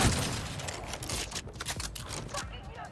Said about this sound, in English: God, I love the reload of this gun.